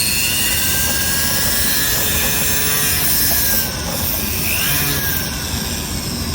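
Rotary tool spinning a jewelry sanding disc as it is trued against an edge, a steady high whine with gritty rubbing that eases slightly partway through, heard alone.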